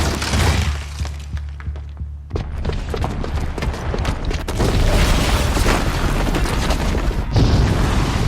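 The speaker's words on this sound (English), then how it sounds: "the booby trap on the bomb downstairs is gonna get set off" A booby-trapped bomb goes off in Horizon Zero Dawn, heavy booming blasts with shattering and crumbling debris that rumble on loudly and continuously throughout.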